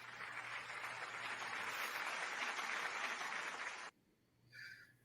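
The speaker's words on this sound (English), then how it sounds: "Round of applause." Canned applause sound effect played during a local wrestling roundup: a dense, steady wash of crowd clapping for about four seconds that cuts off abruptly, followed by a brief faint tone.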